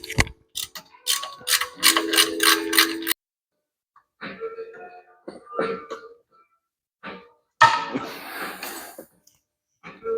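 Bursts of ratchet wrench clicking up close as 14 mm bolts are loosened on a Nissan 200SX S12 during transmission and clutch removal, broken by pauses and a short cough or throat clear.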